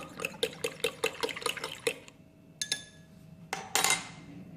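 Plastic model kit part being rinsed of dish soap under hot running water, with a quick series of sharp clinks and splashes followed by a few sparser knocks, close and fairly quiet.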